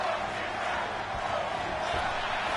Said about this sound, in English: This crowd is chanting.